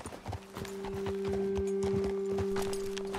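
Horse hooves walking in Red Dead Redemption 2, a steady close clip-clop of several horses over a low hum, with no talk.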